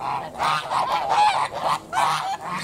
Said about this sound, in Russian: Тут гуси ходят.